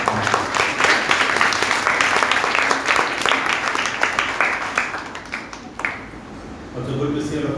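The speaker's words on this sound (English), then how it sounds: "please give a round of applause for all the acharyas." Audience at a D.A.V Matric School program in Gopalapuram clapping steadily for the teachers, a dense, close round of applause that thins toward the end as voices come in.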